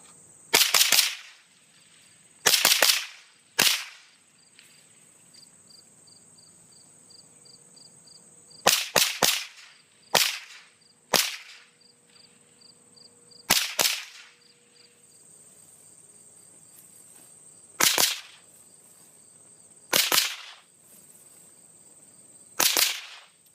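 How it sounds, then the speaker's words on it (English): An M&P 15-22 .22 rifle fires a run of sharp, cracking shots, some in quick pairs and bursts, others spaced apart, loud and close over a faint background buzz of insects. "that's 3 full magazines through the rifle without a malfunction of any kind"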